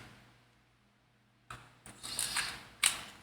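A small eyepiece screw being turned into a plastic Optimus Prime model part, with short clicking, ratcheting scrapes in a few close bursts after a quiet start.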